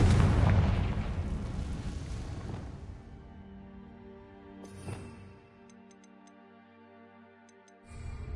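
A fire-blast spell in the video game Hogwarts Legacy bursts with a loud, booming explosion, then rumbles and fades over a few seconds into a quiet tail with faint ticking, and a second blast begins near the end.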